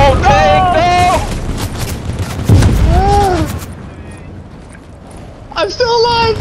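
Booming tank cannon fire and gunshots in Fortnite, aimed at the player, land as heavy blasts amid battle noise, loud and close, while people shout and talk excitedly over the shooting.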